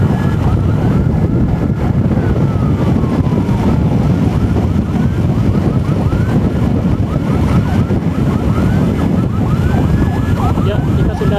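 An ambulance siren wails loud and continuous during an emergency transfer, its rising and falling tones sweeping over heavy road and engine noise for the whole stretch.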